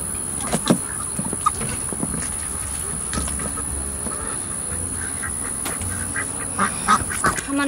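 Ducks and chickens on a farm pasture with newly moved turkeys nearby, with scattered quacks and bird calls rising over steady outdoor background noise, moderately near and fairly soft.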